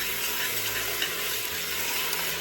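Chicken chili ingredients, including canned Rotel, get a quick mix in a pot, giving a steady close sizzle with soft stirring and scraping underneath, unbroken for a couple of seconds and free of talk.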